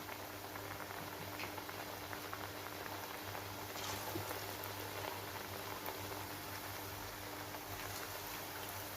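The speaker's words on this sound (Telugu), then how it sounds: "నేను ఆయిల్లో వేసేసుకుంటున్నాను" Pappu chekkalu dough deep-frying in hot oil gives a dense, steady bubbling sizzle that stays constant throughout, heard up close with no voices over it.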